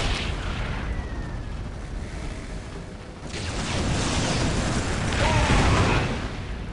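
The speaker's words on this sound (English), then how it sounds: "Let the grenades fly!" Grenade blasts in the Warhammer 40,000 game Dawn of War: Soulstorm, with Space Marines in battle, a continuous loud roar of explosions that swells in two broad surges, dense and close, with no clear talking.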